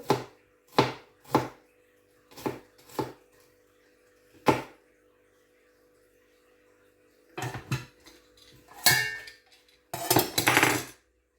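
A knife chops ingredients for a Spanish omelette on a board in a kitchen. Sharp, separate thuds come in an irregular rhythm with pauses between them, ending in a quicker, busier burst of cuts and clatter.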